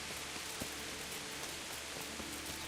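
Steady rain falls in the medieval world of the video game Kingdom Come: Deliverance, a dense, even hiss of drops on surfaces with faint scattered ticks throughout, no voices present.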